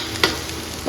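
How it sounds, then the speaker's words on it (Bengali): Potatoes and sliced onions in mustard oil sizzle in a pan, a steady close hiss with a brief stirring scrape near the start, in a short burst with no voices. "প্যানে বসিয়ে দিয়েছি সর্ষের তেল আর সাথে পেঁয়াজ"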